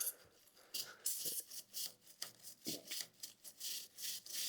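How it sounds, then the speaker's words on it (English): Close, rough scrubbing of a John Deere 49 snow thrower chain with a brush, made of repeated back-and-forth rasping strokes in an uneven rhythm with brief pauses between them. "just give your chain a really nice scrubbing"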